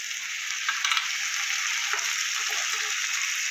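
Carrots and potatoes fry in a pan with a steady, close sizzle, broken by a few light stirring scrapes, and no voices.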